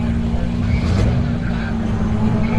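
4x4 Mini race cars at a motorsport circuit, giving a continuous engine rumble with a slight swell as one passes, under trackside ambience.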